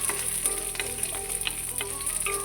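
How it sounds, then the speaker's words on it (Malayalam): Coconut pieces and cashews fry in hot oil in a pan, a steady close sizzle dotted with small crackles and pops, no talking. "തേങ്ങാക്കൊത്ത് എല്ലാം കൂടി ഒന്ന് ബ്രൗൺ കളർ ആവട്ടെ."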